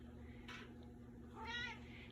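A mother cat gives two short meows, the second louder and more drawn out, close by and outdoors in a garden, over a low steady background hum with no talking.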